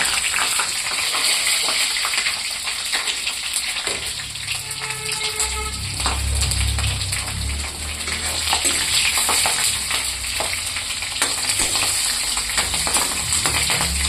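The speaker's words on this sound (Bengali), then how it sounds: "এখানে শুকনো লঙ্কা, কাঁচা লঙ্কা ভাজা করে নেব" Dried and green chillies fry in oil in a pan, a constant loud bright sizzle and crackle heard close up, with a low rumbling thump midway, no voices.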